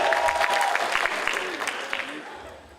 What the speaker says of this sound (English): Let's give a big round of applause to our parents